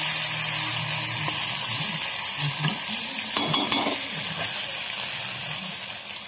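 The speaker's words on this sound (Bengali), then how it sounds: "বন্ধুরা, মাংসটাকে ভালো করে একটু কষিয়ে নিচ্ছি।" Pieces of homemade country chicken frying in a pan, a steady, dense sizzle running throughout with occasional stirring scrapes over it.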